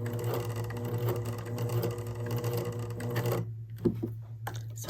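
A sewing machine stitches a hem in a steady, fast mechanical whir with a low motor hum, running continuously for several seconds before stopping abruptly, followed by a few soft clicks.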